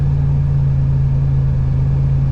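A G-body car's engine idles steadily after a one-wire high-amp alternator upgrade, a constant low hum and rumble heard close with no voices.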